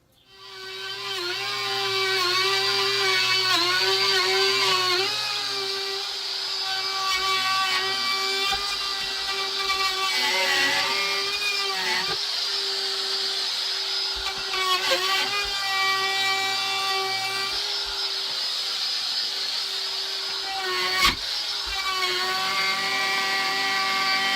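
A handheld power tool with a spinning trim bit runs steadily against an edge on the interior of a teardrop camper build, giving a loud, continuous high whine with small pitch shifts throughout and no talk.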